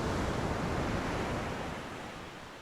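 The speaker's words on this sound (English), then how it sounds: "Sometimes you can even hear it, the tide washing the beach." Broad, steady wash of surf as tide waves roll onto a beach, a continuous close roar that eases slightly toward the end, with no voices.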